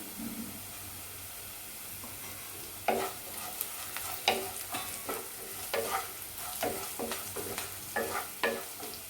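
Onions sautéing with turmeric in a pan for bottle gourd kootu: a steady sizzle runs throughout, with a spoon scraping and stirring in irregular clicks and swishes, close and fairly loud.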